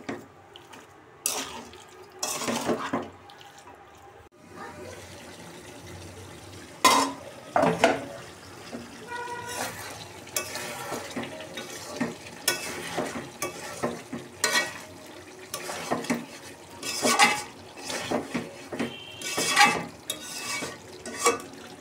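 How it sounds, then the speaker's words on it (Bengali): Beef braising with biryani spices in a pot, repeated scraping stirs and clatter of a spoon against metal over a faint sizzle, irregular strokes throughout, no voices. "প্রথমে মাংসটা কষিয়ে নেই বিরিয়ানির মশলা দিয়ে।"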